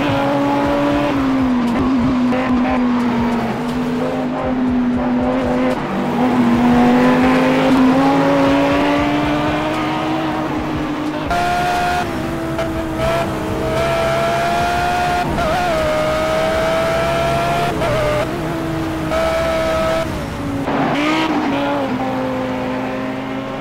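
Race cars in the Project Cars video game roar with high, revving engines that rise and fall through gear shifts, mixed with squealing tires, loud and continuous without talk.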